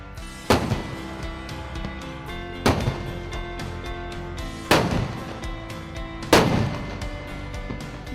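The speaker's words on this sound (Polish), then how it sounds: "Okręt w niedzielę oddał salut złożony z 21 wystrzałów." Four heavy gun blasts from a destroyer, part of a 21-gun salute at Poland's 2016 Sea Festival, evenly spaced about two seconds apart, each a sharp boom followed by a rumbling echo that fades.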